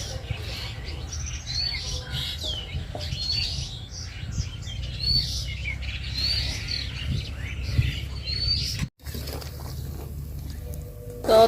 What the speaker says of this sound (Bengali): আর আমার বাড়িতে দেখেন পাখিগুলা কি সুন্দর ডাকতেছে